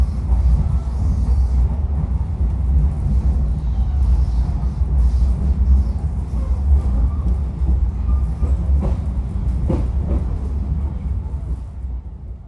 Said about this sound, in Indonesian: kereta api Matarmaja diberangkatkan dari stasiun tujuan awal